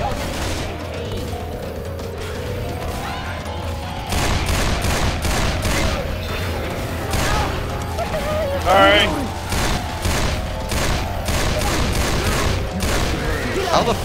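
Gunfire in the zombie shooter Left 4 Dead 2: a long run of rapid, repeated shots and heavy bursts lasting the whole stretch, loud and busy, with people talking over it.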